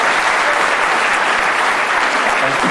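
Dense, steady audience applause fills a concert recital hall at a 2010 anniversary celebration, close and loud throughout with no pauses or voices.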